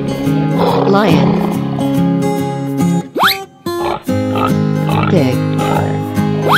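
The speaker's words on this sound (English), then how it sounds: "Lion." A big cat roars loudly over steady background music, with a couple of short bursts and a brief drop-off midway.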